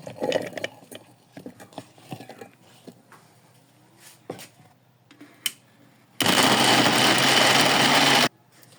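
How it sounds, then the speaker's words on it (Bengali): Tomatoes blended in a kitchen blender, a loud roaring whir lasting about two seconds, after scattered clatter and knocks while setting up; no voices. "এখন আমরা টমেটোগুলো ব্লেন্ড করে নেব"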